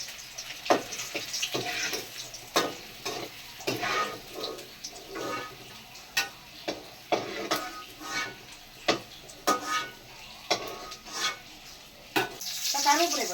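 Ginger sizzles in hot oil for a tomato chutney, a soft frying crackle broken by repeated sharp stirring clicks and scrapes of a spoon in the pan.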